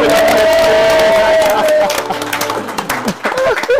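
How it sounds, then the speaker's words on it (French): An audience applauds and cheers the guests at a lively radio show, a loud crowd burst with whoops and clapping, under a sung or spoken voice early on, thinning into scattered claps. "On les applaudit"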